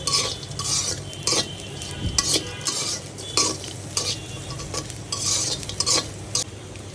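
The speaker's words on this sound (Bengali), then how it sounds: "ছুরি শুটকিগুলিকে এভাবে ছোট ছোট করে কেটে একটু টেলে নিচ্ছি" Small cut pieces of dried ribbonfish lightly dry-fried in a pan, with a steady soft sizzle broken by repeated scraping stirs of a utensil against the pan, close and clear with no talking.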